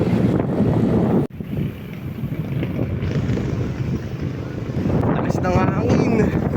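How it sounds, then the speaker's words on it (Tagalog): Strong wind buffets the microphone in a steady, loud roar during a bike ride in Pililla, with gusty surges throughout and brief voices near the end. "Lakas ng hangin."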